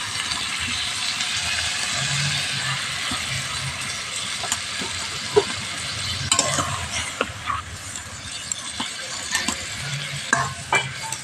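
Boal fish pieces and vegetables stirred together in a hot kadai, a steady sizzle with repeated spatula scrapes and knocks growing busier toward the end, close and fairly loud.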